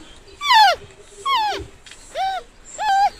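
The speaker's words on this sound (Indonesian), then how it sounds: "Suara panda." Panda calls: four separate high, bleating, tonal cries with short pauses between them, each clear and close with nothing else underneath.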